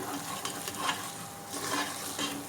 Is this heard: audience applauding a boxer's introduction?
no